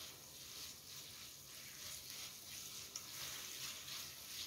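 Meat frying in a pan with no seasoning added, a steady broadband sizzle that holds evenly throughout with a faint crackle, close and moderately quiet, while cooking Korean-style old-fashioned jajangmyeon.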